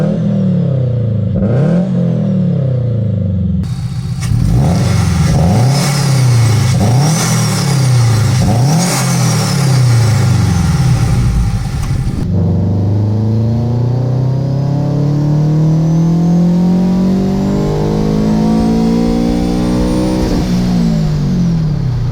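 A heavily modified, turbocharged Subaru BRZ with an aftermarket exhaust revs up loud and close in repeated rising pulls, then runs through a long sweeping acceleration with a strong, gritty exhaust note.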